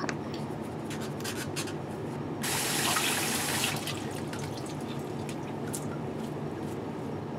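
Baby bottle parts from Dr. Brown's bottles are washed together under a running tap, with steady rinsing and scrubbing and a louder gush of water for about a second in the middle.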